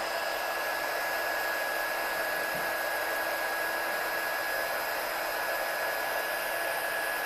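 A heat tool runs steadily while heat setting embossing powder on a handmade card, a constant close, loud blowing hiss with no breaks and no voices.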